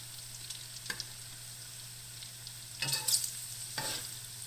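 Pork fat renders into lard in a pan, sizzling steadily up close while it is stirred in a few scraping strokes, with no talking.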